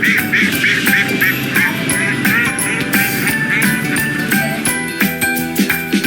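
A duck quacks loudly and repeatedly in a quick, steady rhythm, with light jingling and other sounds layered behind it.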